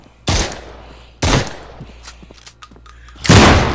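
Three loud, sharp shotgun blasts boom in the VR game SURV1V3, spaced about a second or two apart, each with a short decaying tail and small clatters between them.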